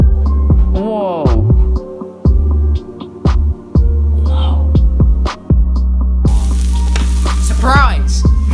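Food stir-frying in a wok, a steady loud sizzle under a low hum, with clattering stirs and bursts of chatter and laughter from people nearby.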